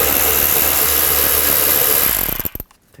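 A power tool with a 7mm socket backs a bolt out of a door panel on a 2000-06 GMC Yukon, a loud steady whirring drive for about two seconds that stutters and cuts off, followed by near silence.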